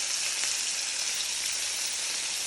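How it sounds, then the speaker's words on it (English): Pork ribs browning in a pan for sweet and spicy Asian ribs give off a steady, dense sizzle, a constant hiss of frying fat with faint crackle, close and loud with no talk over it. "add the ribs. And you're gonna brown them."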